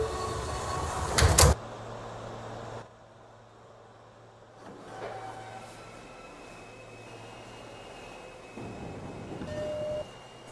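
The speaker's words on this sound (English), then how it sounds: "Stand clear of the closing doors, please." In the Trainz Simulator video game, a New York subway A train (R160A) closes its doors with a loud burst of clatter and thump, then departs under a steady low rolling hum and rising motor whine.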